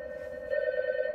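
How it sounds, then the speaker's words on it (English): A phone rings in the video game As Dusk Falls with a steady electronic trill, growing a bit louder midway, clear and close with no voices. "the bat phone's ringing."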